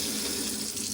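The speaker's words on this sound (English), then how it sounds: "all you do is you just pop on some warm water" Warm water runs from a household tap onto a cleaning sponge, a steady, close hissing splash that holds evenly for about a second with no voices.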